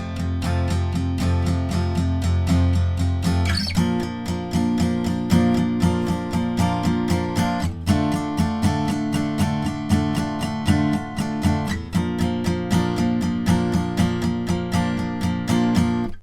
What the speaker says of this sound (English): we're going to use an all down strumming pattern here